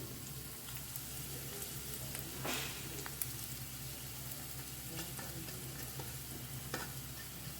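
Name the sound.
ginger and garlic sizzling as they're added to a pan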